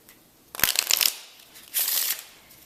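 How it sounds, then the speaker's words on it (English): Two bursts of playing cards being shuffled, a crisp riffling flurry followed by a shorter second riffle, close up with no talking. "So the spectator can shuffle"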